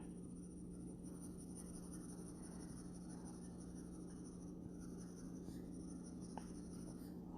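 Pencil shading a simple Pokemon drawing on paper, a faint, steady scratchy rasp of graphite strokes running continuously beneath a low background hum.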